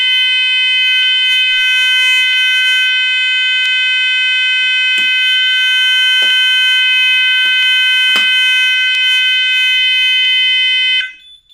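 A Kentec fire alarm control panel buzzer sounds as a loud, steady electronic tone with a few clicks, then cuts off abruptly near the end.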